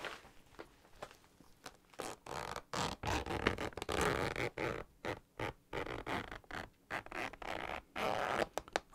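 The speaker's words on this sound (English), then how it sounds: "we love the sound of opening a project bag" A zippered cross-stitch project bag is opened with a run of rough, ripping zip pulls and rustling fabric. The bursts come in quick uneven strokes close to the mic, with no voices over them.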